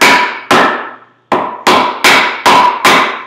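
A metal hammer drives a steel wedge into a log to split it for lumber, seven loud ringing strikes close up, each clang decaying before the next in an uneven rhythm with one longer pause.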